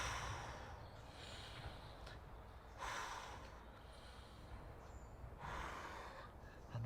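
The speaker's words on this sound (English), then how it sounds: "A couple of nice big deep breaths." Slow, deep breaths taken while holding a calf stretch in a primal-style warm-up, with three long airy inhale-exhale swells spaced a few seconds apart, close and fairly quiet, with no talking.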